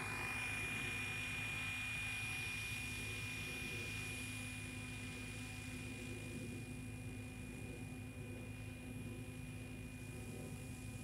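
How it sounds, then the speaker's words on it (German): A Spirit Geolink-equipped RC helicopter touching down on its own, with a steady whirring rotor and motor drone and a high tonal whine holding constant throughout, fairly faint and without voices. "So, jetzt ist der Hubschrauber gelandet, ohne dass ich etwas getan habe."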